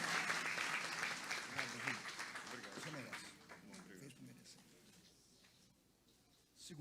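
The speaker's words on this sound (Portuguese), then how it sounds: "Uma salva de palmas ao casal" A congregation applauds a couple at the inauguration of a Baptist mission church in Alhambra, Campo Grande, Rio de Janeiro, with dense clapping that gradually thins and fades toward the end.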